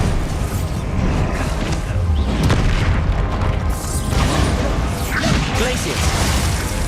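Booming spell blasts and crashing impacts from the Bombarda spell during combat in Hogwarts Legacy, loud and continuous with dense game effects, while a voice talks over the action.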